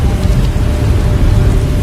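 Steady rain falls in a video game world, a dense, even hiss with a low rumble beneath it, continuous and fairly loud with no voices.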